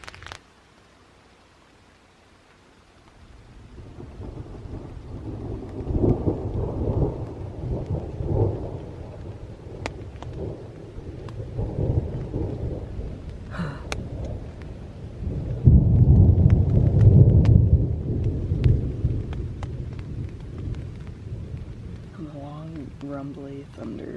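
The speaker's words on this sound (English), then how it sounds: "Rumbly thunder." Rolling thunder rumbles with rain falling at a backcountry campsite on Isle Royale, long low rumbles building and swelling, with the loudest peal past the midpoint and steady rain patter beneath. A person speaks briefly.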